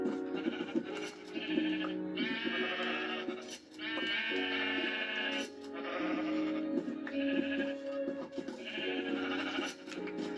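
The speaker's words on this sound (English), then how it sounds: "let's get down to business of shearing more sheep." Sheep in the Minecraft video game bleat repeatedly in short, nasal calls that follow one another closely, loud and near, with no other sound alongside.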